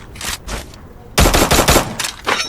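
Rapid automatic gunfire from a shooter game match comes in two short opening shots, then a loud sustained burst of bangs and a final shot, sharp and close.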